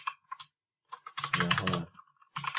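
Bursts of quick keystrokes on a computer keyboard, close and crisp, with short pauses between flurries and a dense run of typing in the middle.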